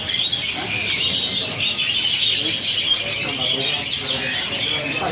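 Dense, continuous chirping and tweeting from many caged siskins in a bird shop, steady and fairly loud throughout with overlapping high calls and no gaps.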